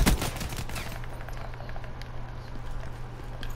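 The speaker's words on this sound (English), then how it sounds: "They have light machine guns and snipers." Light machine guns firing in a Black Ops 3 match make a steady, dense rattle of rapid shots over a low droning hum, continuous throughout.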